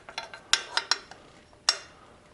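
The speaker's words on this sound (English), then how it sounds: "Then we're going to start to pop off the float bowl." Metal parts of a KLR 650 carburetor float bowl clink and tap as it is worked loose, several sharp light knocks spaced irregularly, close up with no talking.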